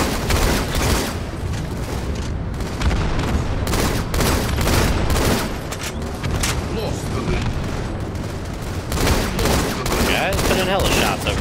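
Dense video game gunfire in a team shooter match, with bursts of automatic fire, single shots and booms crowding together nonstop and loud throughout, while a player talks over the din.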